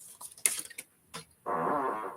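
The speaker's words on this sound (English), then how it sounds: "fart number 4" A fart sounds as a sustained, buzzy rasp lasting under a second, rising clearly near the end after a few brief, scattered noises.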